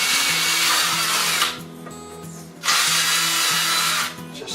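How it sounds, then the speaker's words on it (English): A power drill bores holes in wood, whining loudly in two long bursts separated by a quieter pause near the middle. "So I'm going to use the same drill bit. Drill these holes out a little bit."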